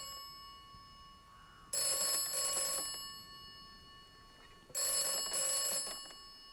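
Telephone ringing in the video game Atomfall, two loud bursts of bright electronic double-rings several seconds apart over a quiet, steady ambient hum.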